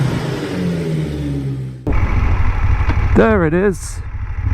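A BMW R nineT motorcycle rolls in, its engine a steady low rumble that starts abruptly partway through and continues under a voice.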